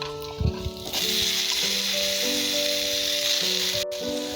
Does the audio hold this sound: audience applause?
no